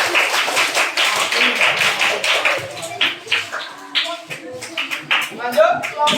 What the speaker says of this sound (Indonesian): Ya, baik, tepuk tangan dulu buat kelompok